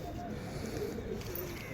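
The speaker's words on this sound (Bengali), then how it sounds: "দাদা একটা ফুলশিরা পায়রা শখ করাচ্ছে" A Fulshira pigeon coos softly in a low, rolling murmur, faint and steady over a quiet background hum.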